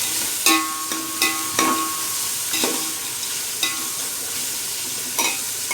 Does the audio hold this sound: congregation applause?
no